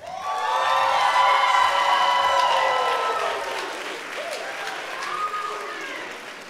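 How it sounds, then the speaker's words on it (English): A commencement ceremony audience breaks into applause for a graduate, a dense wash of clapping from a large crowd with scattered cheers and whoops that slowly tapers off. "Let's have a round of applause."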